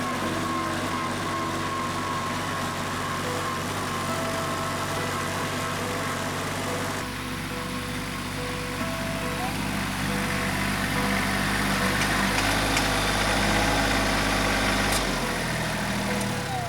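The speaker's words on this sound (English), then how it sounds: "we've got the harrow on the back of the tractor, and we're just kind of running over, burying that seed" A tractor engine drones steadily while pulling a harrow over a seeded food plot, a continuous close rumble that deepens and shifts partway through, with no voices.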